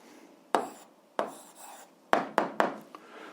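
Pen writing out an answer to an eighth-grade algebra exercise, several quick scratchy strokes close by, separated by short pauses, in a quiet room with no talking.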